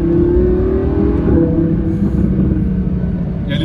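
Audi R8 V10 Plus supercar, 610 hp, in dynamic mode with manual downshifts: a loud, close, continuous engine roar that holds steady and rises slightly in pitch, with a faint crackle near the end.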